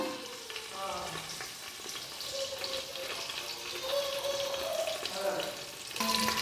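Onions, green chillies and curry leaves fry in oil with a continuous crackling sizzle, moderately loud, broken by stirring scrapes and a few light clatters of utensils near the end.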